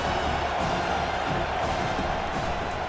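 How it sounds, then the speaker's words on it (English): Stadium crowd noise in College Football 25 during an Ole Miss vs Arkansas game, a loud continuous roar of cheering fans filling the whole moment without letup. "This crowd trying to make life miserable for this offense."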